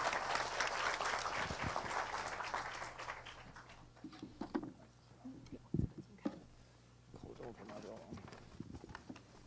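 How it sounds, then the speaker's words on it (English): Audience applause at a scholarship program orientation, welcoming an ambassador to give opening remarks; a dense, steady round of clapping fills the first few seconds, then thins into scattered claps, footsteps and light movement with some talk. "please give him a round of applause"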